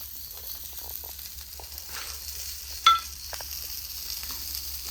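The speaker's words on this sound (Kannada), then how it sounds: "ಒಳ್ಳೆ ಮಾಡಿ ಫ್ರೈ ಆಗಿದೆ, ನೋಡ್ಬೋದು ಯಾವ ಥರ ಫ್ರೈ ಆಗಿದೆ" Boneless Boothai fish frying in a pan gives a steady, moderate sizzle throughout, with a brief sharper crackle or clink partway through and no talk.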